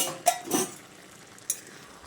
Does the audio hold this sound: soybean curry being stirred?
yes